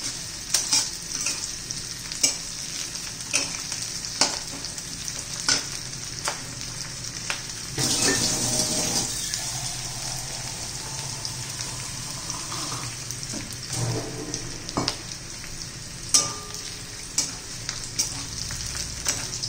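Onion and green chilli fry in a pan for a soybean chilli dish, a steady close sizzle punctuated by regular spoon scrapes and stirring, with a brief splash of water partway through.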